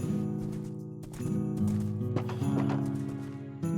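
A Minecraft horse neighs and whinnies while its hooves clop, the game sounds loud and close and running throughout under a steady tonal backing.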